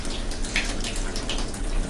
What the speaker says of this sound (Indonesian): Nah, kerannya nyala.